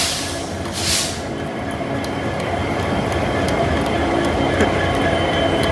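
A passenger train starts to pull away on a journey out of Nepal, giving a steady, rumbling rattle of wagons. Faint rhythmic wheel clicks and a brief high squeal come through near the start, and no voices are heard.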